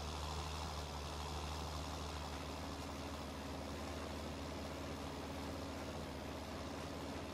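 Tractor engine in Farming Simulator drones steadily while pulling a planter across a field, a continuous low rumble with no breaks, close and even throughout.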